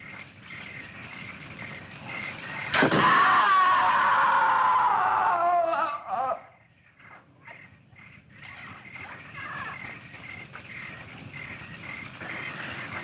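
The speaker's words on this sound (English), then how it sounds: "I'm sure I heard a scream." A loud, sustained high scream rings out in a jungle setting in the 1961 film Bloodlust, lasting a few seconds before cutting off, over a constant background hum of crickets and insects.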